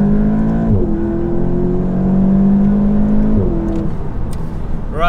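A 290 hp VW Golf GTI TCR accelerates hard in second gear with ESC in sport mode, its engine note climbing steadily in a loud, sustained in-car drone, then easing as revs fall near the end.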